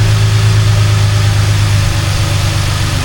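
A car engine idles steadily and loudly up close, a low constant rumble with fine vibration, running to warm the exhaust, with no talk.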